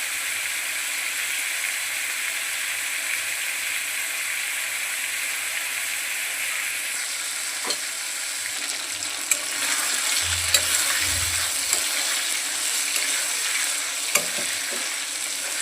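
Chicken pieces frying in hot oil in a home kitchen, a steady close sizzle throughout with occasional stirring clatter and a few louder pops near the end.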